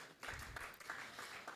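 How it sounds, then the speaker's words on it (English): Conference audience at an economic review event gives brief, quiet applause, soft clapping heard at a distance and lasting under two seconds. "A round of applause for him as well."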